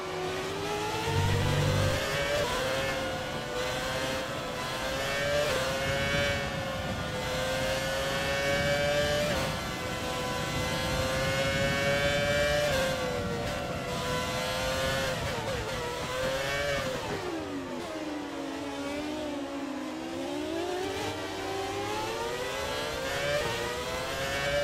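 Engine of the 2010 Red Bull RB6 Formula 1 car in the F1 2020 racing game at the Red Bull Ring, a high-pitched V8 scream climbing through gears with repeated upshifts, a dip and recovery as it brakes and accelerates, steady and close.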